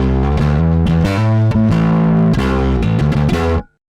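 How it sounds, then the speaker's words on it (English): A bass guitar through the distortion channel of an EBS Fafner II amp plays a loud, continuous riff, with gritty sustained notes and a few quick changes, then cuts off abruptly near the end. "you'll hear just the distortion channel."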